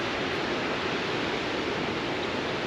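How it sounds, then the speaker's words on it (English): River water rushes past in a steady, dense wash of noise, loud and unbroken with no voices, like a strong current or falls close by. "Look at the flow of the water though."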